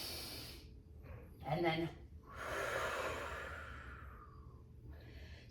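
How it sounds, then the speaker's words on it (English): A person doing a bird dog exercise breathes in sharply, then blows out forcefully in a long hissing breath, close and fairly quiet, with a brief spoken bit before it. "you're exhaling forcefully like you're blowing out hundreds of birthday candles"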